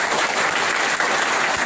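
Steady, dense applause from a class of students fills the room, a continuous wash of clapping hands with no pauses and no voices rising above it.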